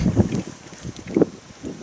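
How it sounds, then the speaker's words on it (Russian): Gusty wind buffeting a microphone outdoors by a boat in the taiga, low rumbling bursts rising and falling, with faint water movement in the background. "Ух ты, ветер."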